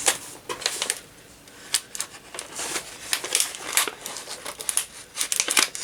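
Scissors snip and cut into a mailed package, with crisp crinkling and rustling of packaging in a series of irregular sharp clicks and crackles, close and fairly quiet with no talking.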